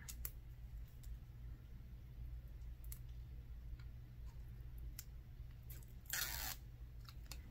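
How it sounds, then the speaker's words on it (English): Crisp snipping clicks from scissors cutting eyeliner packaging scattered through the clip, ending in a louder burst of crinkly cutting near the end, over a steady low hum. "Going in with scissors."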